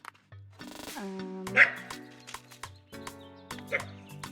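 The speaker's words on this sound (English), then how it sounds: "My dog barking because I'm not allowed to do fun things." A pet dog barks several times in a garden setting, loud and close, in sharp bursts spread across the moment with short pauses between them.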